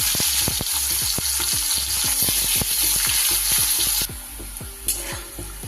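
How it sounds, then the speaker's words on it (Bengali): Sliced bitter gourd frying in hot oil: a steady, bright sizzle punctuated by regular scraping stirs, with the hiss dropping noticeably partway through as the frying settles. "এবার উচ্ছেগুলো ভেজে নেব।"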